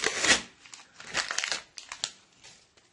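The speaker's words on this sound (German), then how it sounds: "Machen wir die letzte Tüte auf." Crinkling foil wrapper of a Fortnite sticker packet being torn open and handled close up, a burst of loud rustling followed by several shorter crackles, with no talk.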